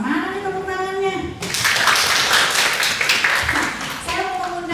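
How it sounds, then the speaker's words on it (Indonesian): Audience clapping at an Indonesian talk show and beauty class, a full burst of many hands lasting a few seconds and heard close, with a host speaking before and after. "Mana nih tepuk tangannya?"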